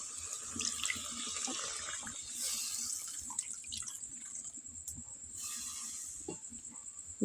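Tap water runs steadily into a bowl that held marinated pangas fish, a continuous close splashing stream with faint clinks in a kitchen.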